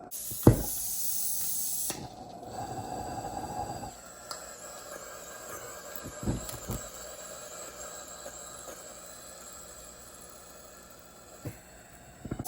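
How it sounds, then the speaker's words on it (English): An Aristo-Craft live steam G-scale model locomotive blows off steam outdoors, a sustained broadband hiss running for several seconds with a few sharp pops and clanks, fairly close and steady. "All right, we're blowing off steam there now."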